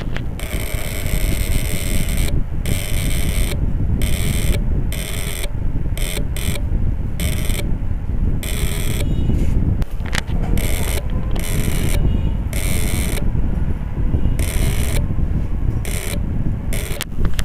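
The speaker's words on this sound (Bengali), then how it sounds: "এটা আমাদের ঠিকভাবে কন্ট্যাক্ট হইতে পারতেছে না, টিকটিক করে সাউন্ড করতেছে।" A motorcycle self-starter contact near the battery makes a rapid, continuous mechanical ticking and whirring, close and steady, broken by brief gaps, with rough wind-like noise mixed in.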